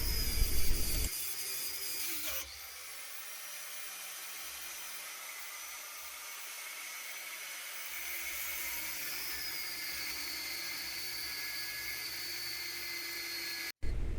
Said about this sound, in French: Donc déjà, je découpe la barre de renfort.